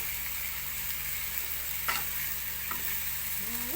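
Bamboo shoots stir-fried with three-layer pork and curry paste sizzle steadily in a pan, with a few scraping stir strokes, close and continuous with no talking.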